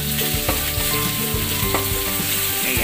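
Garlic and chili sizzling steadily in a hot pan, loud and close, with intermittent stirring clinks and scrapes and no voices.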